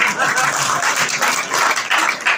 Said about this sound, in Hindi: आपको आपकी तालियां बहुत कमजोर है